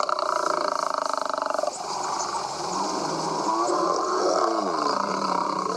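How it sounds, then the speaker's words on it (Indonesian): Toy lion producing a mechanical, electronic roar: a rough, pulsing growl that shifts pitch partway through, heard up close over steady background noise. "Wow, ada singa si raja hutan."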